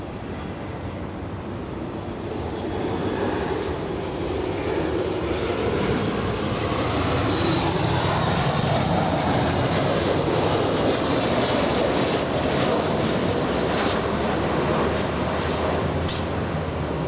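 An Alaska Airlines Boeing 737 MAX arriving at Los Angeles International Airport, a loud sustained jet engine roar that swells and holds steady for many seconds as the airliner passes, with no voices.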